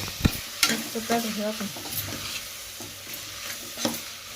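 Scraping and clattering of a utensil stirring food in a pan, with soft sizzling underneath and a few sharper knocks against the metal.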